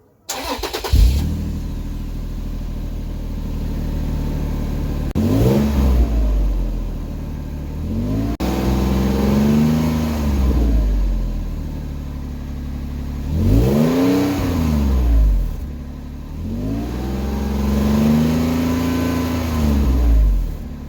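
A Toyota Tacoma 4.0L truck with a custom 3-inch exhaust starts and revs repeatedly, its deep exhaust rumble rising and falling in several long, loud pulls between steady idling.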